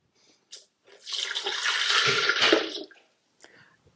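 Water gushes steadily from a tap for a couple of seconds, starting and stopping cleanly, with a few small clicks and clatters around it.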